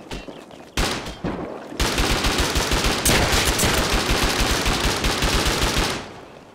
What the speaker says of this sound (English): still being shot at